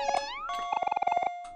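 A cat meows in the video game Omori: a short, bright, tonal meow followed by a quick run of evenly spaced chiming blips, clear and close with no talk.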